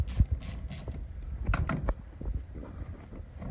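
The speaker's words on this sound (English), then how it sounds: "You have to loosen that clamp a little more." A hose clamp on a car radiator is loosened by hand, giving a few quiet metallic clicks and scraping ticks, close up and intermittent, with no talking.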